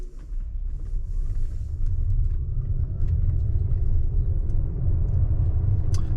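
A car driving under FSD beta self-driving software, a steady low road rumble and engine hum from inside the cabin that swells slightly as it gets underway, with a few faint clicks and no talk.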